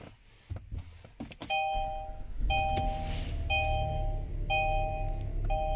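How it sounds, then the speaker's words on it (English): A 2016 Kia Sorento EX sounds its shutdown chime after the push-start engine is switched off: four evenly spaced two-tone electronic dings over a steady low hum. "Nice wind chime once you shut your vehicle off."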